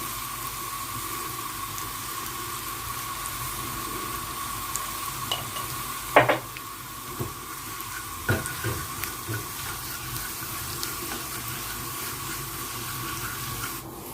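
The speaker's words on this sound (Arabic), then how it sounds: "هنحمر حتة تومة في حبة سمنة." Garlic fries in ghee in a home kitchen pan, giving a steady soft sizzle with a few sharper crackles and clinks near the middle. No one speaks.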